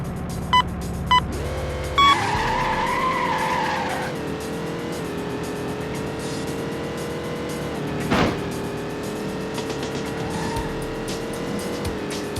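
Cars race in the Test Drive 2002 video game, engines droning steadily under loud tire squeals and skids near the start, with a sharp burst of screeching around the middle as the cars push on through heavy traffic.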